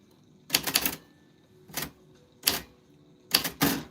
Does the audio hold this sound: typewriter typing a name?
yes